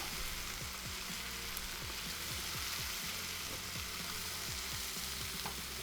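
Vegetables dropped into a hot pan of cooked bacon fat sizzle and fry steadily, a dense continuous hiss close by with small crackles and pops throughout.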